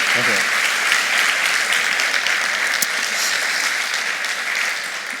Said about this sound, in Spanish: Un fuerte aplauso para Javier Solís, director de cine